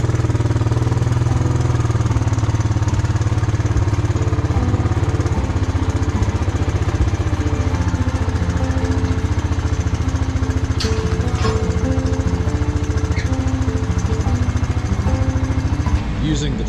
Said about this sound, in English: Using the tractor to make a turn.